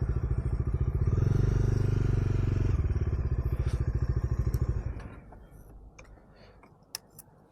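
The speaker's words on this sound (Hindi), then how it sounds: "तो भाई मैंने बाइक कर दी है खड़ी" A Bajaj Dominar motorcycle being parked at a service centre: its engine thumps in a steady, loud idle rhythm, then cuts off, leaving faint ticking and light clicks in a quiet space.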